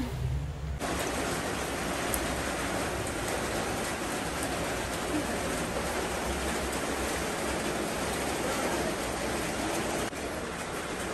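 Rain pours on a house with a leaking roof while water falls into the kitchen inside, a constant, dense rushing hiss that stays level throughout, with no one speaking.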